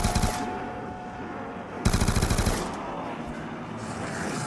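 RPD machine gun fire in Black Ops 2 Zombies, a loud rapid burst of rounds cutting in midway over steady game background noise.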